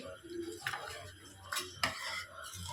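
A spoon stirs cooked mung beans mixed with yogurt and sprinkled coriander in a metal pot, giving a few close scraping clinks against the sides with soft wet shuffling between them.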